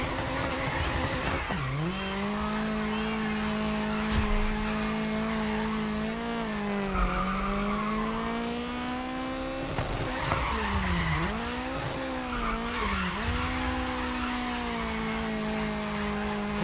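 Tires screeching as a car drifts in the racing game Grid Legends, a long sustained squeal that wavers in pitch with several swooping dips, loud over a constant engine roar.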